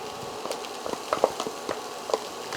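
Garlic frying with diced translucent onions in a greasy pan, a soft steady sizzle with scattered crackles and pops, fairly quiet and close, with no talking.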